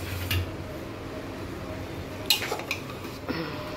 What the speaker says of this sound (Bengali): চলো 5 মিনিট হয়ে গেছে, ঢাকনাটা খুলে দেখি কি পরিস্থিতি।